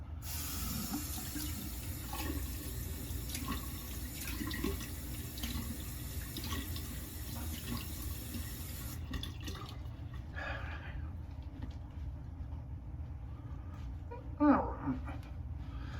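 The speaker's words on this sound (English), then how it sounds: "So we are all rinsed with hot water," Tap water runs steadily into a sink during a rinse with hot water, a continuous splashing hiss that cuts off partway, leaving quieter room sounds and a short knock near the end.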